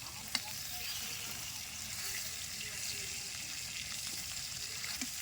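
Tilapia fish frying in a pan gives off a steady, even sizzle that runs throughout, with one sharp click near the start and a few faint knocks later.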